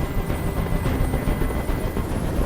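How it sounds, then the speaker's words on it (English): A helicopter hovering nearby in the Detroit: Become Human video game, a loud continuous rotor and engine drone with a dense low rumble and no talk. "I can't stand that noise anymore. Tell that helicopter to get out of here."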